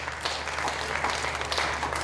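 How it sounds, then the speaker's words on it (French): A conference audience claps for a speaker who has just been introduced at a large hall event, a dense, steady wash of many hands at a moderate distance that lasts the whole moment. "Je vous demande de l'applaudir, donc Éric Petitgan."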